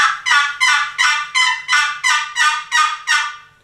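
A Primos box call is worked to imitate a turkey's yelp, about nine evenly spaced raspy notes stepping between high and low pitches, close and loud with no voices.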